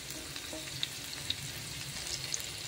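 Bean sprouts and broccoli stir-fry in a pan, giving a faint, steady sizzle with a few soft ticks and pops throughout, heard alone without talk.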